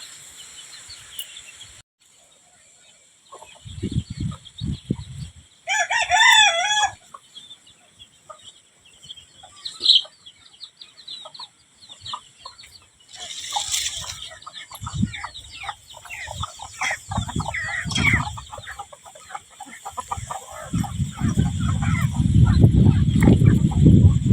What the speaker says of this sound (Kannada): ಕೋಳಿಗಳಿಗೆ ಕಾಳು ಹಾಕ್ಯಾರ ನೋಡ್ರಿ